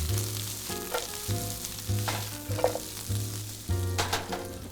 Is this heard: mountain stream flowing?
no